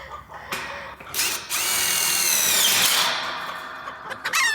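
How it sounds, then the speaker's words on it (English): A power drill drives a self-tapping screw into a farm gate, a rising whine held for a couple of seconds after short starting bursts, close and loud. "I like to put a self-tapping screw in it"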